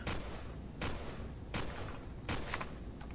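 Turret gunfire in the space-survival game Empyrion: four heavy, booming shots spaced roughly every three quarters of a second, each a sharp broadband blast with a short tail, loud and close with no talking.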